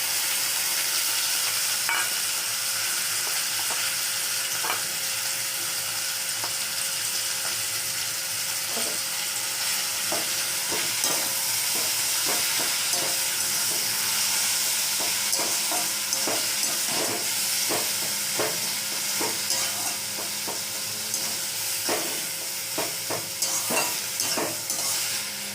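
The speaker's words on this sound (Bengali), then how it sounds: "ভালো করে ভেজে নেব" Onion, garlic, green chilli and boiled data greens sizzle in a pan, a steady fry hiss broken by repeated scraping stirs of a spatula over about half a minute, with no talking.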